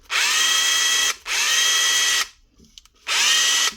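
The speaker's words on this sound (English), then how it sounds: "Little brushless motor SDS drill, a proper hammer action S3S, wee tiny piston inside of this thing." Makita DHR171 compact brushless SDS hammer drill running in three loud, sustained bursts of whining, rattling hammer action, separated by short pauses with faint handling sounds.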